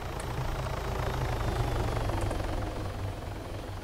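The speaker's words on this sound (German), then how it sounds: "Da ist ein Heli." A helicopter's rotor in the video game ArmA 3 thumps in a steady low pulsing drone, fairly loud and constant throughout.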